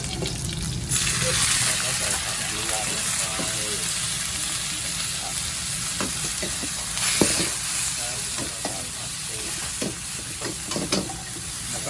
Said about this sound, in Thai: ใส่น้ำมันลงใส่น้ำมันลงไป แล้วก็พริกกระเทียมนะครับ